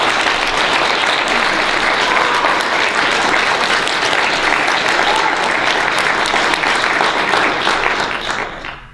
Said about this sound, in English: Please give all the residents a round of applause for their vigor.